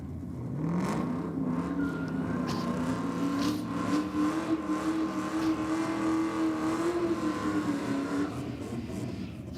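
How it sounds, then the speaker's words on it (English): A front-wheel-drive nitrous Honda Civic drag car holds a burnout, its engine revving hard and climbing in pitch into a sustained high-rpm scream over crowd and track ambience, heard from a moderate distance. "What a burnout."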